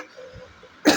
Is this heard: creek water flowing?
no